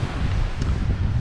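Strong wind blowing at the seashore during sea fishing for flounder, a steady low roaring rush buffeting the microphone for the whole short moment with no other distinct sounds.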